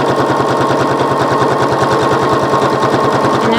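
A sewing machine runs steadily while stitching binding along the top edge of a gingerbread quilt, its needle hammering in a fast, even, continuous rhythm, loud and close throughout with no voices.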